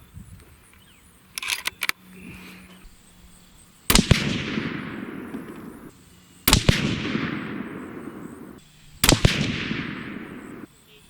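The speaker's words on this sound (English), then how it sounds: "let's go ahead and shoot a group here and see what we can do." Three loud rifle shots from a Savage 111 in .270 Winchester firing Barnes 130-grain TSX loads, spaced a few seconds apart, each a sharp crack with a long rolling echo, plus a brief softer click or shuffle before the first shot.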